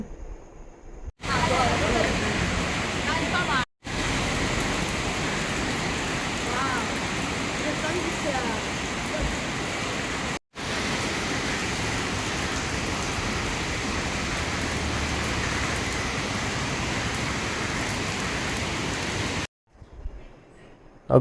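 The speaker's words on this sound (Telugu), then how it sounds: "వర్షం ఫుల్గా పడుతోంది." Heavy rain pours down in a dense, continuous roar, broken by a few abrupt cuts, with faint voices under it.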